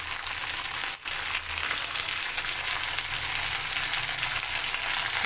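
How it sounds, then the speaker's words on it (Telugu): Green chillies fry in hot oil with a steady, close, loud sizzle and crackle, one brief dip near the start, and no talk. "ఆయిల్ వేడికిన తర్వాత పచ్చిమిర్చి వేసుకోవాలి."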